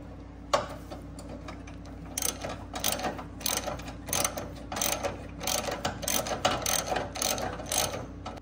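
A ratchet wrench clicks in quick, uneven bursts while loosening a bolt during installation of an exhaust on a Corvette C8. The sharp metallic ticks are close and clear, with brief pauses between sets of strokes.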